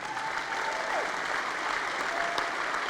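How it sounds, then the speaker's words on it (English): Continuous audience applause fills a hall during a city's State of the City address, a dense, steady clapping at moderate volume with no voices over it. "I think applause would be really good right now."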